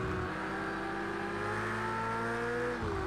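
Race car engine from Project Cars 2 holding a high, steady whine while overtaking a BMW, tonal and continuous before a sudden drop in pitch near the end, with no talk over it.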